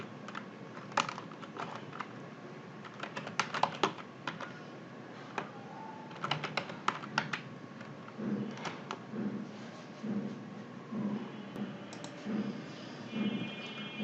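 Someone types an email address on a computer keyboard in quick bursts of soft, close key clicks, separated by short pauses and lighter tapping, with no speech.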